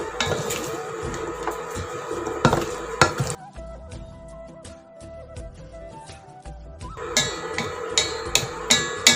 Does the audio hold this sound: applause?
no